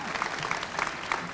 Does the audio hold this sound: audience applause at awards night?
yes